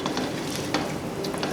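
Chickpeas and red lentils frying in hot oil for a Pakistani murgh cholay, giving a steady dense sizzle with some stirring scrapes throughout, close and fairly loud with no voices.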